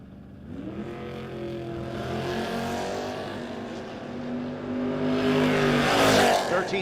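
Drag race cars, a Mopar against a Maverick, roar toward the finish line at a No Box 660 shootout, engines rising in pitch as they accelerate, loud and sustained, with the sound swelling near the end.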